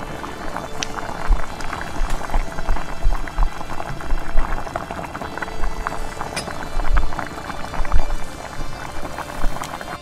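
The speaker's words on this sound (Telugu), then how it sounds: "ఆయిల్ తేలేంత వరకు ఉడకపెట్టుకోవాలి" Green chicken curry simmers in a pot, bubbling and popping in an uneven, continuous burble that is close and moderately loud, with no talking.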